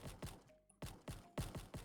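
Rapid bursts of gunfire in a Roblox hide-or-die game, several sharp loud shots in quick clusters with a short quiet gap between them, no talking.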